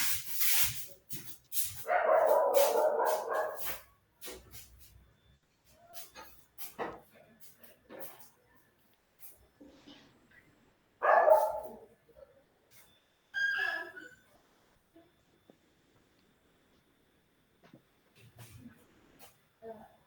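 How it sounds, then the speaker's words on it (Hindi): Dogs bark and yip in short bursts near a person giving an online statistics lecture, with several loud barks and scattered whimpers amid quieter gaps. "थोड़ा वो कुत्ते यहीं पे बहुत चिल्ला रहे थे ना"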